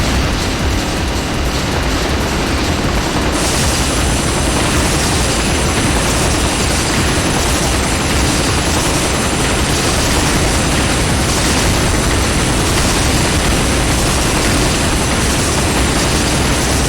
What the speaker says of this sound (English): Look at the transformation of this helicopter